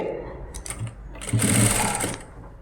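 A sewing machine stitches an umbrella gown, with a loud, steady whirring run of about a second in the middle of the clip. Lighter handling noises come before it.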